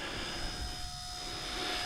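A small RC helicopter flying 3D aerobatics gives off a steady, fairly loud high-pitched whine with constant tonal hums and a rushing rotor wash, with no voices.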